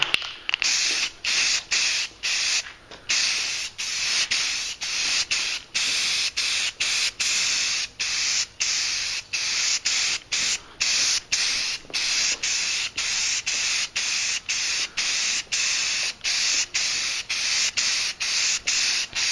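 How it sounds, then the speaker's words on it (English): Repeated short bursts of filler primer sprayed from an aerosol can onto a Magneto cosplay helmet, hissing in quick on-off pulses with brief gaps, close and loud throughout. "So we're going to go ahead and start spraying this."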